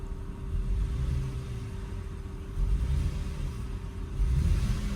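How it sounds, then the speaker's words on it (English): A stationary BMW X3 E83 with a misfiring engine is revved, giving a low rumbling idle with a steady hum and two louder swells, uneven and close. "So now I stopped the car and I can actually hear it misfiring a little bit"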